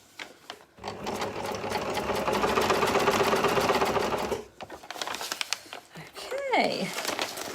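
Sewing machine stitching quilt pieces in a quick, steady mechanical chatter for about four seconds, then a pause and a second shorter burst with handling clicks, while a voice talks over it.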